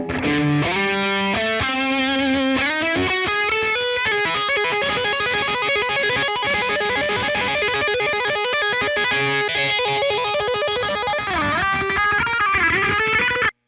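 Loud, heavily overdriven 1944 Gibson electric guitar through a Fender Twin Reverb Tonemaster amp on 10, playing sustained chords and bends, thick and saturated, continuous throughout with no talking.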